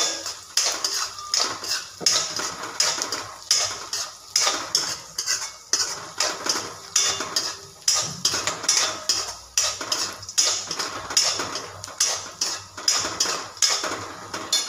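Peanuts and dal fry in oil in a pan for Maharashtra-style kande pohe, stirred briskly with a constant rhythm of metal spoon scraping and clinking against the pan, close up, under a soft sizzle, no voices.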